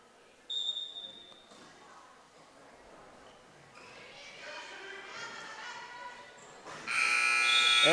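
At a junior varsity girls' high school basketball game between Red Bay and Russellville, the end-of-quarter buzzer blares loudly and steadily near the end, after faint crowd noise, sneaker squeaks and an earlier short tone.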